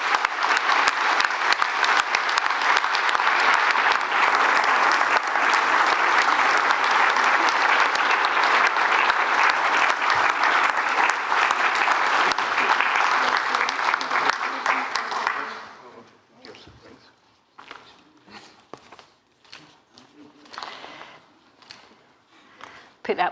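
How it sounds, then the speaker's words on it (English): Loud, dense audience applause fills a hall for a Newton Award nominee as he walks up, sustained for about fifteen seconds before cutting off abruptly, leaving quiet room noise and scattered faint sounds. "Give him a big clap."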